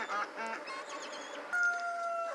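Four roosters ahead of butchering on a homestead give off fowl calls: honking, crowing-like squawks in short bursts, with a longer sustained call near the end, fairly close and moderately loud.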